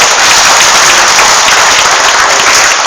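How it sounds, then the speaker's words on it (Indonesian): An audience claps for an aspiring horticulture entrepreneur, giving loud, dense and steady applause that fills the whole stretch at close range, with no talk over it. "Tepuk tangan untuk pengusaha hortikultura."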